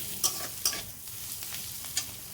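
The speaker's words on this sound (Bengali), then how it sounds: "শুধু এলাচ দুটো ফাটিয়ে দিই, ছোটো এলাচ।" Soft sizzle of oil with a few sharp pops and crackles as green cardamom pods burst in hot oil, three distinct snaps over a quiet frying hiss.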